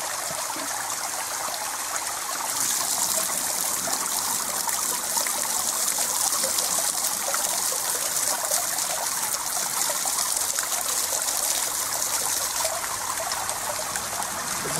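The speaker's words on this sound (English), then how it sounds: "going to fill them up with this free spring water" Free mountain spring water trickles and splashes steadily into containers being filled at the Bond Mountain spring, close and constant with no talking.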